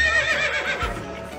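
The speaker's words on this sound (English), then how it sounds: "Miniature horses." A miniature horse neighs at a zoo, a short close whinny with a bright wavering pitch that rises and falls over a second or so, with soft rustling around it.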